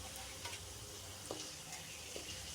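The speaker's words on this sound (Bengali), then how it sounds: "সবগুলা পাঁপড় ওই তেলের মধ্যে ভেজে নিচ্ছি।" Papad pieces fry in a small amount of oil with a continuous soft crackling sizzle and occasional light stirring taps, close and fairly quiet with no talk.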